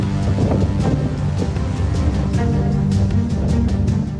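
Strong cyclone winds of Biparjoy sweep through Morbi, Gujarat, a continuous loud roaring rush with gusty buffeting against the microphone and no voices.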